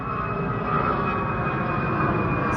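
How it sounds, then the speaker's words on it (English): An airplane roars steadily overhead at 3 a.m., a loud continuous engine drone with no other sounds. "Here's an airplane."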